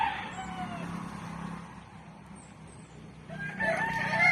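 A rooster crows at a distance over low background rumble, with a second brighter call rising near the end.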